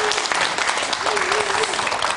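An audience applauds warmly to welcome a surgeon onto a stage, steady dense clapping over a short stretch with cheering voices mixed in.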